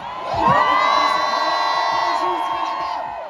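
A crowd cheers and whoops loudly at the GP Explorer 3 race event, swelling quickly and holding steady for a few seconds before easing slightly, with excited shouts mixed in.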